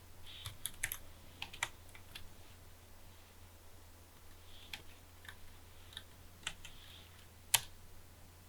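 Scattered keystrokes click on a computer keyboard as a chmod command is typed on a Linux machine, quiet and close, with uneven taps and short pauses over a low hum.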